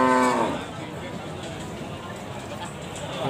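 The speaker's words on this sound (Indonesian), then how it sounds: "Oke, ini ada sapi jenis pegon." A single Pegon cow moos briefly at the start, followed by steady background noise of a busy cattle market with faint murmuring.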